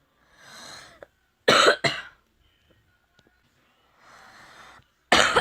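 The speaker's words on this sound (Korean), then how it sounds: "오늘 영화 보는데도 기침 때문에" A girl coughs in a few sharp bursts, close and loud, with quieter breathy sounds between them.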